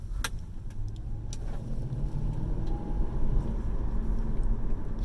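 A Lexus SC430 pulls away on a road with a steady, mid-pitched engine note that builds gently under a constant rumble, with a few faint clicks and no talk.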